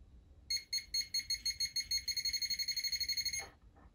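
Kuman KW30 pinpointer metal detector beeping in rapid bursts near a target, the pulses quickening into a fast, insistent pattern before stopping abruptly, with a low buzzing hum underneath.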